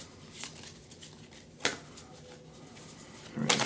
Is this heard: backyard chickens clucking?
no